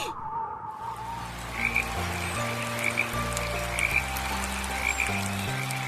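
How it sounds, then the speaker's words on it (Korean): Green tree frogs croak in a steady, rhythmic chorus, a low pulsing call repeating close and loud with no voices over it. "그 뒤로 청개구리는 비가 오면 개굴개굴 더 크게 울어요."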